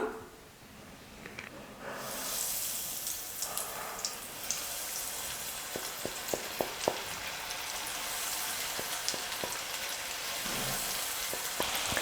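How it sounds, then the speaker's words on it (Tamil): Onion rings deep frying in hot oil over a medium flame, a steady broadband sizzle that swells after the first couple of seconds, with scattered crackles and pops throughout, close and continuous, no talking. "மீடியம் ஃப்ளேமில் வச்சுட்டே நம்ம இப்போது ஆனியன் ரிங்கை எண்ணெயில் போட்டு பொரிச்சு எடுத்துக்கலாம்."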